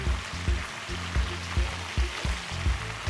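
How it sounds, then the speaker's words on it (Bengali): Onion and capsicum frying in a pan for black pepper chicken fried rice, a loud steady sizzle with regular thumping stirs of the spatula about every third of a second, close and continuous without talk. "জাস্ট এটা 1 মিনিটের মতো ফ্রাই করে নিলেই হয়ে যাবে"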